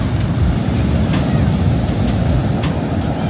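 High ocean waves roll and wash continuously in a loud, broadband roar, heard close and mixed with gusty wind across the microphone.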